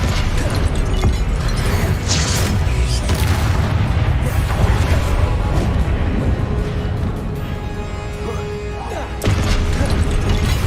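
Confringo blasting curse explosions in Hogwarts Legacy, a dense, continuous run of booming blasts and crackling bursts with a brief dip in intensity near the end before loud impacts resume.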